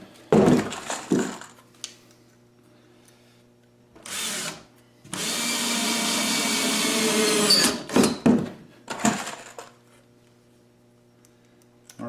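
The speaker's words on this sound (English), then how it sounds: "Notice these screws don't skip and you don't have to push." A power drill drives screws into a wooden upper kitchen cabinet, with short whirring bursts and one sustained run of several seconds, close and fairly loud, separated by quiet gaps and light handling knocks.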